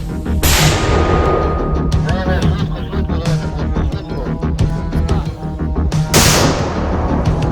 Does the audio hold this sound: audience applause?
no